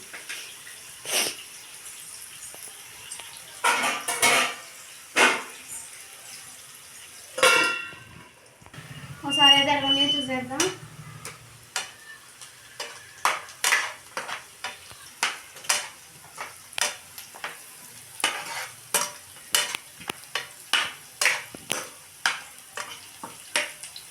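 Sliced onions sautéing in a pan, an intermittent close sizzle broken by repeated sharp stirring scrapes and clatters, with a short burst of voice partway through.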